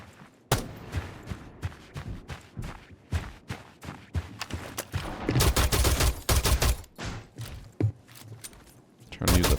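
Pistol shots fired at a barricade in a competitive shooter game, a rapid irregular string of sharp cracks, some in dense bursts, close and loud throughout the stretch.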